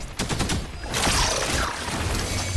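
Rapid bursts of video game gunfire crackle in a dense, loud volley, continuing steadily through the moment with a heavier stretch midway.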